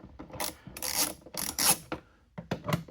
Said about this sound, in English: I got a 3/8 ratchet with an 8mm, some extensions, and I'm just going to go to town